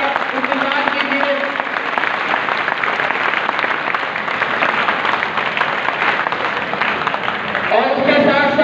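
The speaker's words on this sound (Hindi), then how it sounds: "जोरदार तालियों में मुकाबले में हिस्सा लेने वाले बच्चों का इंतजार कीजिए।" Loud, dense, sustained applause from a crowd welcoming students at a college poetry recitation competition, close and continuous throughout with a voice faintly audible near the end.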